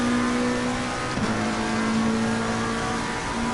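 Race car engine in Assetto Corsa Competizione at Laguna Seca, a steady loud mid-pitched drone with a brief shift in pitch near the middle, continuous and alone with no talk.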